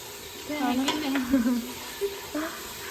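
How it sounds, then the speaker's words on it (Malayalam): Onions sauté in oil for a prawn biryani, giving a steady close sizzle with brief scraping strokes from stirring, and faint voices in the background. "നമ്മൾ എണ്ണ ഒഴിച്ച് സവാള ഇട്ട് നന്നായി വഴറ്റുണ്ട്."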